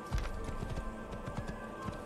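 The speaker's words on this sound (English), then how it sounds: "Sirs and madams, just, you know, riding a horse along." Horse hooves clip-clop at a steady riding pace in the Assassin's Creed video game, the rhythmic thuds sitting close and clear over a low ambient game soundscape with faint tonal hum.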